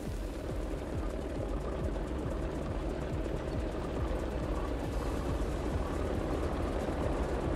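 Aircraft at a landing pad in Gas Station Simulator, heard as a steady droning engine hum that runs at an even, moderately loud level through the whole stretch, with no talk over it.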